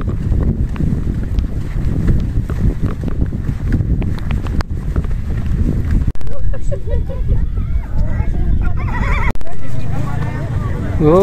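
Horses at Mount Bromo, with a whinny and hoof clip-clop under steady wind and people talking throughout, close and fairly loud.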